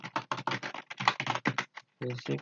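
Rapid clicks on a computer keyboard come quick and close, with a short pause and then a final burst of keystrokes.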